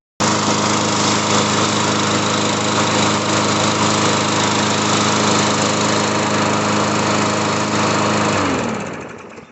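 A Briggs and Stratton 140cc engine on a Craftsman M100 push mower, just after carburetor repair, runs loud and steady at high speed close by, then cuts off and winds down near the end.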